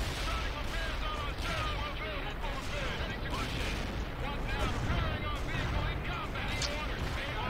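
Artillery fire support in World in Conflict rumbles as a continuous barrage of deep booms and crackling impacts, steady and heavy throughout, with a voice talking over the battle.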